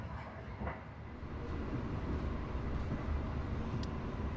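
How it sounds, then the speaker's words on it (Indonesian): The Argo Bromo Anggrek long-distance train races at speed on double track between Bekasi and Jatinegara, a continuous loud rolling rumble and rail roar heard steadily from on board. "Jadi kereta bisa balapan gini teman-teman."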